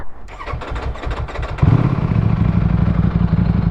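A stock 2019 Ducati Panigale V4 base model starts up with a clattery crank, then settles into a loud, close, steady engine roar for the rest of the moment.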